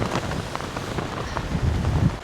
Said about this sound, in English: Oh, look at the sand whisking across there. That's how windy it is.